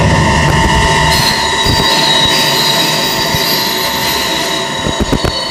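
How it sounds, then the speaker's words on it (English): Trains rumble through a railway station in London, a loud continuous roar with grinding wheel squeal and metallic clatter, close and overwhelming throughout. "The trains will be very noisy."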